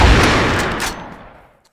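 A single loud, heavy shot from an AWM Infernal Dragon sniper rifle in the video game CrossFire, a close boom whose reverberating tail fades away over about a second and a half.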